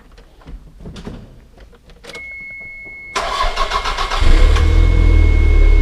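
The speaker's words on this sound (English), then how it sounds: "Let's start this thing up." Toyota MR2 engine cranking and catching after repair, a sharp jump into a steady running idle that grows louder and deeper, following faint clicks and a brief electric whine, with no talking.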